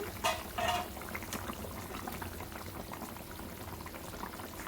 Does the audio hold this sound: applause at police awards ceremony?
no